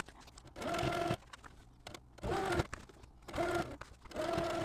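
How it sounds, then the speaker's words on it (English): A sewing machine stitches a quilting motif on quilt blocks in three separate runs, each a steady whirring hum lasting about a second. Quiet pauses sit between the runs, and the sound is fairly soft and close. "we're going to stitch the exact same motif that I did in the center triangles"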